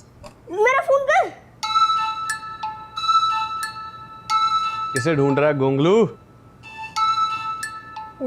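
A mobile phone ringtone plays a repeating electronic melody in short bursts, with someone speaking between and over the phrases.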